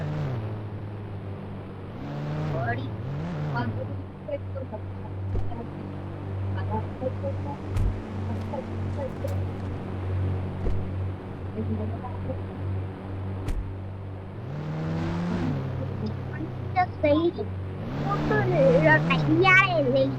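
A Defender car driving in the mobile game Indian Bikes Driving 3D, with a steady low engine hum running throughout and brief rising revs near the start and end, under a person talking.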